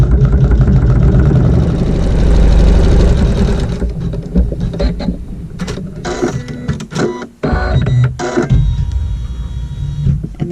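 A sewing machine stitches a fabric seam with a steady buzzing whir for the first few seconds, then runs in short, uneven bursts broken by pauses and handling clatter.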